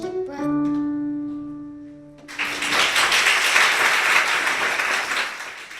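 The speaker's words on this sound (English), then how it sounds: "Lots of encouraging applause there for class winner Isaac Kreisky" An audience breaks into sustained applause for a class winner at a competition, a steady wash of clapping that follows a few fading sung or played tones.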